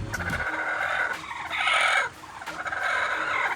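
Chickens clucking and squawking nearby on a farm in Iloilo, Philippines, a busy flock with one louder excited burst partway through.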